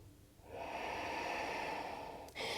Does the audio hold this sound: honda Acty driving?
no